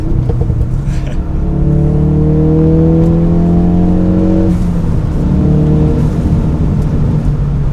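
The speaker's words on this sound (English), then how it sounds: "Exhaust gives it a nice little rumble back there." Engine and exhaust of a Ford Focus RS rumbling steadily while driving, with rising revs through a gear, a brief dip at a shift, then pulling again; loud, close and continuous with no talk.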